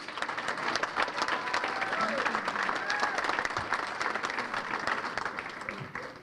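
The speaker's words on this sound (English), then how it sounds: "give her a round of applause" A banquet audience applauds at a sports hall of fame enshrinement dinner, a dense, steady wash of many hands clapping for about six seconds, with a few voices murmuring underneath.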